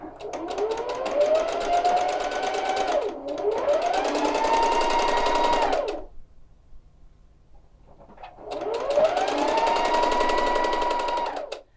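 A sewing machine stitches a double folded one-inch hem on a tie jacket, running in two long steady bursts, pausing in near silence, then starting up again, close and loud with no talking.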